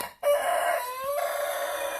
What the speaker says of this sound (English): a dark Cornish rooster.